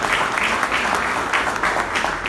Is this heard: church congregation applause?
yes